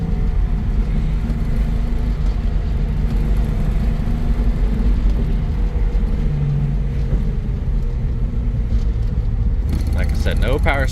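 A 1971 Datsun 280Z's engine drones steadily from inside the moving car as the driver shifts down through fourth, third and second gears, with a voice talking over the constant rumble.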